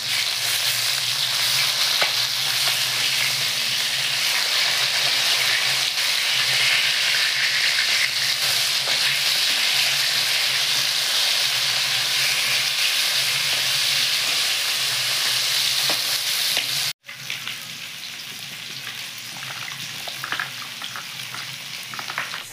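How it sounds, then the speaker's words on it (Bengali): Pieces of katla fish fry in hot oil in a pan with a loud, steady sizzle. The hiss runs unbroken, cuts out for a brief moment near the end, then resumes slightly quieter. "মাছ ভাজা হয়ে গেছে, এখন তুলে দিচ্ছি"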